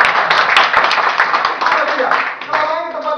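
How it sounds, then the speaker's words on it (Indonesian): A seated audience at a business presentation claps in a brisk burst of hand claps, with a voice speaking over the clapping toward the end. "Tepuk tangan."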